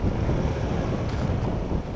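Strong wind buffets steadily with a low, continuous roar and no voices.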